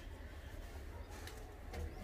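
Low, soft cooing from a loft of paired domestic pigeons of the Kalpare Madrasi breed in Naraina village, Delhi, rumbling continuously and faintly, with a couple of brief higher sounds near the end.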